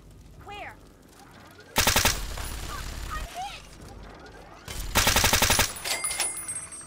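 Enemy gunfire in Fallout: Tale of Two Wastelands comes in two loud rapid bursts of automatic shots close by, separated by quieter game sounds with a voice speaking between them.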